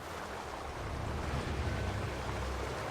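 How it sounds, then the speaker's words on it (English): A roaring waterfall in Total War: Warhammer 3, a steady broadband rush of falling water that holds loud and unbroken throughout, with no voices over it. "Loud-ass waterfall."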